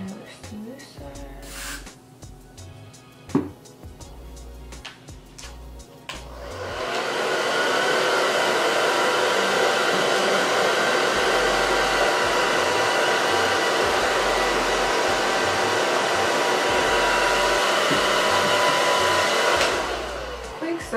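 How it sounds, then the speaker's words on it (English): After some quiet handling noises, a hair dryer with an attachment switches on and blows with a loud, steady whoosh for over ten seconds before cutting off, drying a wig. "if you have a dryer that has like this attachment on there"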